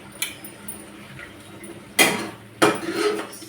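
A lid clanks down onto a metal cooking pot of simmering spices, two distinct close metallic knocks with a short ring, between quieter kitchen rustling.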